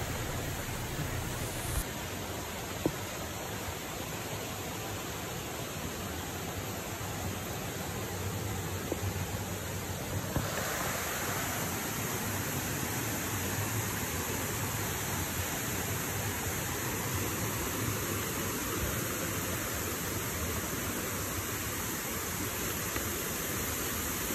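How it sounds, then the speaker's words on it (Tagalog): Pahangog Twin Falls in Dimiao, Bohol pours down in a steady, even rush of falling water that fills the air with constant hiss and roar, with no voices. "Yan yung Twin Falls ng Dimiao, Bohol guys."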